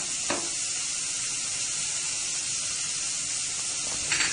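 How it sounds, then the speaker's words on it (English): Chopped onion sautés in a pan for a Maharashtrian-style cauliflower sabji, giving a steady, close, continuous sizzle and hiss with a couple of brief stirring scrapes. "Now add this onion, and I will saute this till the onion becomes little translucent."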